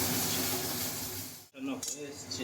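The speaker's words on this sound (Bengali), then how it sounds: "সোয়াবিনগুলো ভাজা সোয়াবিন আর ভাজা আলু দিয়ে একটু কষিয়ে নেব" Fried soybean chunks and fried potato being sautéed with spices in a pan, a steady sizzle with scraping and clinking of a utensil against the pan, broken by a brief pause before stirring resumes.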